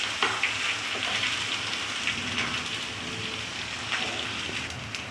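Spice masala frying in a pan for pointed gourd kofta makes a dense, continuous crackling sizzle, close and even throughout, with occasional sharper pops.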